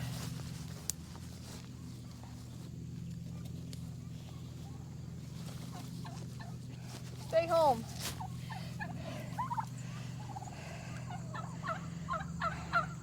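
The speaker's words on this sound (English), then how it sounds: "Darn turkeys." Domestic turkeys gobble near a fence in bursts around the middle and toward the end, over a steady low hum, while someone talks nearby.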